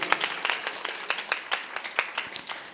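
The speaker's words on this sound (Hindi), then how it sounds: "सभी के लिए एक बार तालियां हो जाए प्लीज" Scattered clapping from a small audience at a Jain temple cultural program, individual claps distinct and irregular, moderately close, with no voices.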